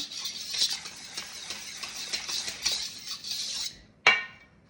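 Thick kimchi paste being stirred and mixed in a bowl, a steady scraping and squelching run of stirring strokes with clinks of utensil on the bowl, ending in one sharper knock.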